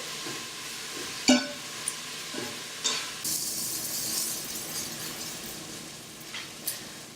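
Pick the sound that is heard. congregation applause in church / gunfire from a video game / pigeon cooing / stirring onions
stirring onions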